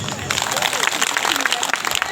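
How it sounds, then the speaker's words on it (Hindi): An audience claps in a crowded hall at a community gathering, with loud, busy rapid claps running throughout while a voice talks over the applause. "चलिए तालियां बजाइए एक बार,"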